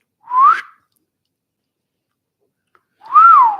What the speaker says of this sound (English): Whistle at him.